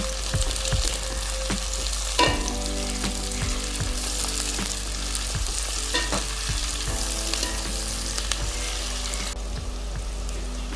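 Onions and curry chillies sauté in a hot pan for devilled chicken, a steady close sizzle broken by periodic scraping stirs and a faint hum underneath, with no talking.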